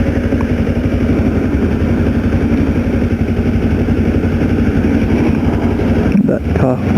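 A car passes close by on a street after dinner at a Subway, a loud steady engine and road roar holding throughout before a brief disturbance near the end.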